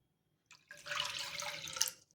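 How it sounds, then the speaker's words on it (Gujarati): Water poured into a kadai on a gas stove for a semolina breakfast dish, a short splashing pour starting after a brief bump and running steadily, close and fairly quiet. "તેની અંદર આપણે અહીંયા 2 બાઉલ પાણી લઈશું"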